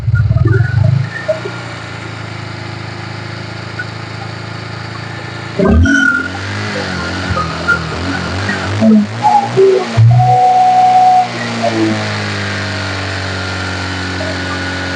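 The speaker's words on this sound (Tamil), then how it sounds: "ஒரு நிமிஷம் வந்து இன்ஜினை ஓட விடுறேன் உங்களுக்கு" A Bajaj Pulsar 150 motorcycle engine running in a service setting, a steady close mechanical drone with a sharp knock and a cluster of uneven revs and rattles midway before settling back to an even idle.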